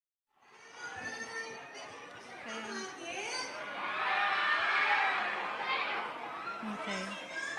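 Cebuano fans scream and cheer for a love team, a swelling crowd of high, excited voices and shrieks with chatter underneath, building to a loud peak midway and staying noisy to the end.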